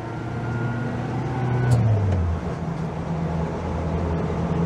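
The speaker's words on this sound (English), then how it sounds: "Getting a bit revvy as we approach the dizzy heights of 60 miles an hour there." Small Zastava 750 car engine revving hard while driving at around 60 mph, a steady buzzing drone with a rising then falling whine as the revs change, loud and close, with no talk.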